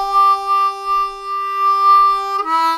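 Blues lick played on a C harmonica in a slow 12-bar blues, a few sustained reedy held notes followed by a quick bend near the end, close and clear, alone.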